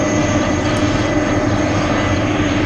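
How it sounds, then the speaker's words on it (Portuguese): A fixed-wing airplane lands, its engine noise a loud, steady broadband roar that fills the whole stretch without letup or voices. "Tá bom, olha, temos o avião já aí."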